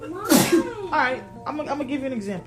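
A sharp, close sneeze bursts out near the start, then a person keeps talking in a steady voice.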